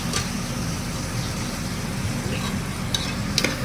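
Onions and tomatoes sauté in a pan for a spicy South Indian kara kuzhambu, a soft continuous sizzle with faint stirring and a couple of brief utensil clinks near the end.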